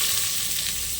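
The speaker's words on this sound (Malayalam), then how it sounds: "നമ്മൾ അരിഞ്ഞു വെച്ചിരിക്കുന്ന സവോള അതിലേക്ക് ഇട്ട് കൊടുക്കുവാണ്" Chopped onion dropped into hot oil after mustard seeds, giving a steady, loud sizzling hiss that runs unbroken throughout with no voices.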